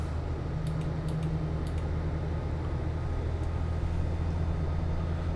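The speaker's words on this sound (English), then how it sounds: "that's one of my tape machines rewinding" A steady low mechanical whir and hum, like tape spooling at speed, runs continuously at moderate level, with faint clicks above it.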